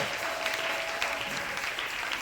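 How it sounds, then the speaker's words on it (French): A church congregation applauding for Jesus during a prayer service, steady moderate clapping from many hands with a faint voice or tone running underneath. "Acclamez Jésus si tu es content de ça."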